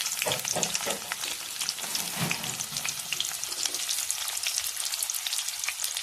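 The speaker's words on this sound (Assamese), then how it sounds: "এতিয়া দি দিছোঁ কাটি থোৱা পিঁয়াজখিনি।" Chopped onions hit hot oil in a pan already seasoned with cumin and five-spice, giving a steady, close crackling sizzle with brief louder spits, heard alone without talk.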